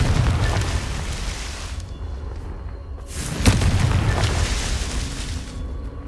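Confringo blasting spell going off in Hogwarts Legacy, a loud rumbling boom with a sharp burst midway over steady low-end roar, close and full.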